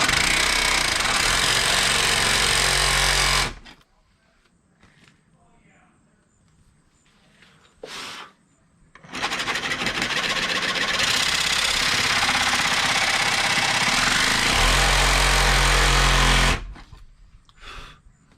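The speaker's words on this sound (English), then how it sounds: "Probably gonna have to sawzall it." A reciprocating saw cutting through a stud on a 1985 Chevy Corvette near its fiberglass body, loud harsh buzzing bursts that start and stop, with quieter gaps between cuts.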